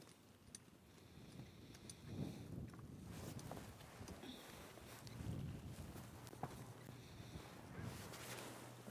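A horse walks during a cutting-horse training session, its hooves clip-clopping in a slow, uneven rhythm at moderate distance against faint wind and low ambient noise.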